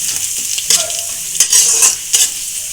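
Garlic and onion frying in hot oil for a water spinach dish: a bright constant sizzle with a few sharp stirring scrapes of a spatula against the pan, close and loud.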